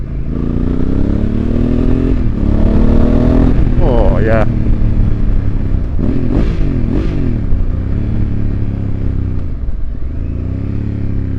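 A Honda Africa Twin motorcycle fitted with a FUEL exhaust revs loudly close by, its engine note rising and falling in several throttle blips, with a brief spoken exclamation over it.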